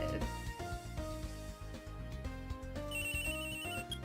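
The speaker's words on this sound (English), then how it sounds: "Oh, our phone is going off." A phone rings in the Ace Attorney Investigations video game, a tonal electronic ringtone repeating over game music for about four seconds, with no talking.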